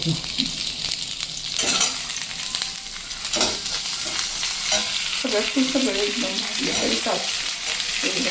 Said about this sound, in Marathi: कांदा टोमॅटो अशी लांब लांब थोडीशी कट केलेली मिरची हे सगळे तीन घटक घातले आणि हे अगदी दोन तीन मिनिटं भाजून घेणार आहे